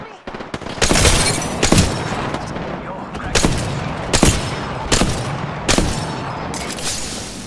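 Enemy gunfire in an Apex Legends ranked match (Ash), rapid bursts of shots cracking repeatedly over several seconds with heavy booming impacts, loud and close, with a voice talking briefly underneath.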